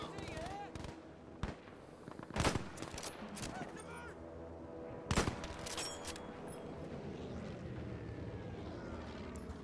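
Machine gun fire in the video game Battlefield 5, with sharp bursts and single loud shots cracking over a busy battlefield rumble, and aircraft droning while voices shout.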